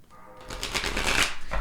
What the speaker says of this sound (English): Let me shuffle this other way.